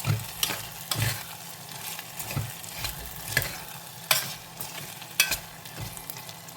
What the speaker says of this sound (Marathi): हा पनीर आता आपण मंद आचेवर ह्या मसाल्यांसोबत 5 मिनिटं तेलावर परतून घेऊया